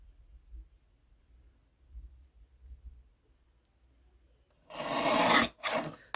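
Paper is trimmed for an art collage, heard as a short rasping burst of cutting near the end, followed by a brief second snip, after several seconds of near silence.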